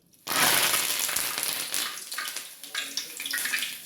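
Curry leaves hit hot oil in a pan while chilli bajji are being fried, setting off a sudden loud sizzle that slowly settles into a crackling, spitting hiss.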